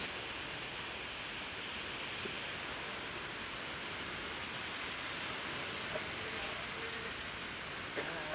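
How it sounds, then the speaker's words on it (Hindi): Steady, even mountain rain rushes throughout on the route to Hemkund Sahib, a dense wash of drops with no pauses, moderately loud, with a few faint knocks in the background. "बारिश पड़ रही है"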